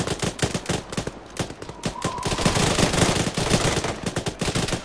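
Sustained machine gun fire in a military game, rapid loud bursts hammering almost continuously and close for the whole stretch, with no talking.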